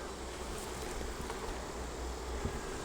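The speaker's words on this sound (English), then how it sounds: "I want these bees off of this inner cover" Honey bees buzzing on a hive inner cover, a steady low drone of many insects close by, faint and continuous with soft wind noise and no talk.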